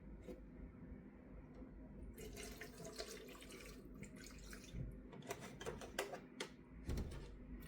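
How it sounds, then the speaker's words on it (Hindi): Milk poured into a mango shake being made at home: a steady liquid gush with bubbly splashes, fairly quiet and close, with a few knocks toward the end. "और अब इसमें डाल देती हूँ दूध।"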